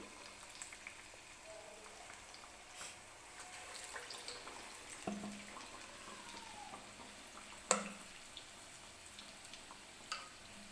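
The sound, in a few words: potato bhaji frying in hot oil in a kadhai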